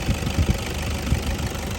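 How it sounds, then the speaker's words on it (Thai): A 2013 Toyota Hilux Vigo Champ 2.5E Prerunner, a manual with a VN turbo diesel engine, idles smoothly and steadily up close, with a low, even chug and no voices. "ให้ฟังชัดๆการทำงานของ เครื่องยนต์นะครับ"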